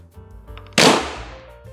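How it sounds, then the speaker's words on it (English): A homemade spring-powered Nerf Sten gun blaster fires a dart with one sharp, loud snap that fades quickly, heard close and alone after some quiet low handling noise. "Now there's a dart that's loaded, and I can now prime the spring and we are ready to fire."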